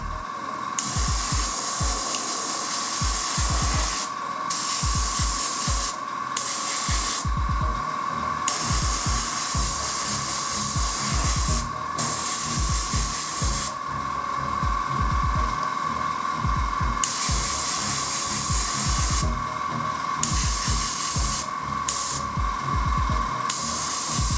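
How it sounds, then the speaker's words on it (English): Steady airbrush hiss sprays paint in small dots onto a miniature model nearby, broken by short pauses and quick on-off bursts, with a faint low hum underneath. "Best to keep a distance with your airbrush from the model and just spray a lot of these little dots."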